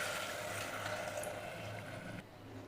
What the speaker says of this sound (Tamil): இப்போ இது கூட 1 டம்ளர் தண்ணி சேர்த்துக்கலாம்.